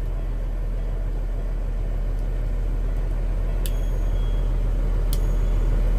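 A 2007 Kenworth W900 mixer truck with a McNeely mixer runs its equipment, a loud, steady, close engine rumble with a few sharp metallic clicks over it.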